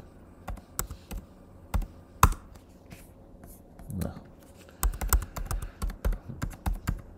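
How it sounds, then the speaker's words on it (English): An address being typed on a computer keyboard during setup of a Fibaro Home Center 3 Lite, with scattered single key taps early on and then a quicker run of close, crisp keystrokes toward the end. "all we have to do now is just type in the address that we created earlier on"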